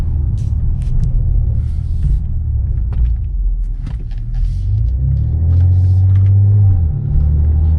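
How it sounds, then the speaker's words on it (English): Turbo air intake whoosh from a BMW M340i with a B58 engine fitted with an MST intake, a steady loud low rumble of the running car that swells and climbs toward the end without speech. "You could hear the turbo sucking in the air."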